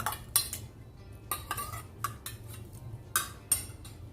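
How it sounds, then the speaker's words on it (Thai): Thai dried fish strip salad with minced pork, blanched shrimp and sliced shallots being tossed together in a bowl, giving scattered light clinks and scrapes of utensils against the dish, close and fairly quiet, with no talking. "คลุกเคล้าทุกอย่างให้เข้ากันดีเลยค่ะ"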